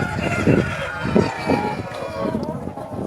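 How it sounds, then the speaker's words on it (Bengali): A large rooster on a chicken farm, a heavy breed weighing eight to ten kilograms, gives short clucking calls at close range over constant farmyard noise, with a few louder bursts spaced through the clip. "এই যে মোরগটা অনেক বড় মোরগ"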